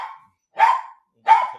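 A dog barks loudly indoors at a lawn care worker outside, three sharp separate barks spaced about half a second apart, close and clear with silence between them.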